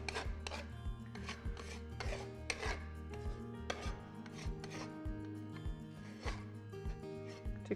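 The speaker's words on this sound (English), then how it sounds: "And then I'm just going to use my putty knife again." A putty knife spreading thick textured faux-concrete paint over furniture, in steady rhythmic scraping and rasping strokes, close and moderately loud, with no talking.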